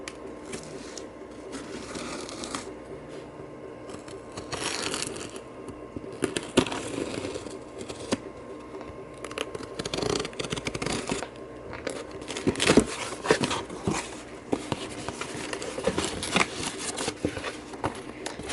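Plastic bags are handled and crinkled while unwrapping a Lionel 202 model train, with steady rustling, tearing and crackling up close for a long stretch.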